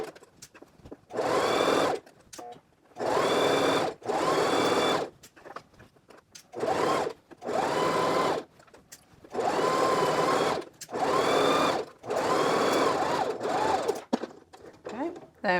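Sewing machine stitching a skirt seam and turning at a corner, running in several steady loud bursts separated by brief pauses, close up, with a voice speaking between runs.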